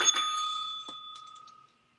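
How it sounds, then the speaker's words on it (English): A hand bell rings once at a Saturday ladies' night bingo game: a bright, clear metallic strike up close that slowly fades out to silence. "let's ring the bell."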